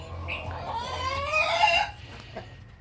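Young native and US silkie chicks cluck and peep outdoors on grass, a cluster of soft, close chirping calls rising over a low hum before trailing off.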